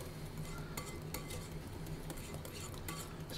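Cayenne pepper being stirred into a spiced chocolate ganache, a steady soft scraping and swirling of the utensil through the thick mixture with occasional faint clinks against the bowl, close and continuous.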